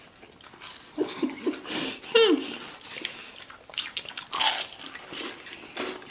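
Crunchy biting and chewing of crispy shrimp tempura sushi, close and fairly loud, with soft wet mouth sounds, a brief squeak and some people talking and murmuring around it.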